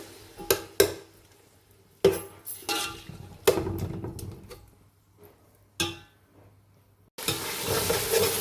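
Tomatoes being stirred in a frying pan: scattered scraping and clattering strokes with gaps of quiet, then a steady sizzle rising near the end.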